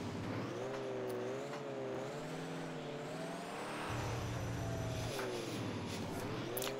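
Off-road car in the Rigs of Rods driving game crossing grass, a steady engine drone with rising and falling revs throughout and a heavier low rumble midway, no talk.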